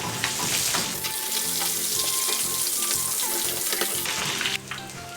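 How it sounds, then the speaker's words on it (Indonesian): Chili sambal ingredients sizzle and fry steadily in a hot pan for a spicy catfish dish, a continuous close crackle with some stirring and clatter throughout. "sekarang sambalnya kita goreng"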